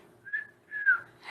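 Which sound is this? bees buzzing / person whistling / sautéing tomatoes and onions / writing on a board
person whistling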